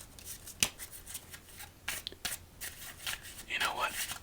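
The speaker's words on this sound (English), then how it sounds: "Excellent shuffle right there." A deck of playing cards is shuffled close up in a quiet setting, with crisp riffling bursts and soft card handling spread over a few seconds.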